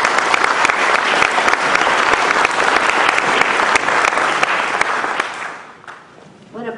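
Loud, sustained audience applause fills a lecture hall during remarks on literacy, dense clapping throughout that thins and fades near the end with a few last scattered claps.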